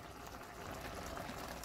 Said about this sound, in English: I'm going to let this simmer for about 5 minutes so that all that flavor gets in